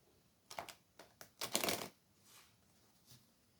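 Tarot cards are shuffled and cut nearby, with a few quiet, brief riffling bursts separated by short pauses, faint and with no voices.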